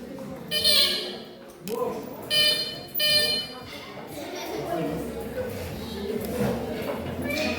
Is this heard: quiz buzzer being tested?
yes